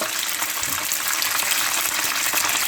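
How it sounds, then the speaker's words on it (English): Battered haddock or cod deep frying in hot oil, a steady dense sizzle with fine crackling spatter running the whole time, close and fairly loud with no voices. "The thing about a thin batter is you're going to get some splattering."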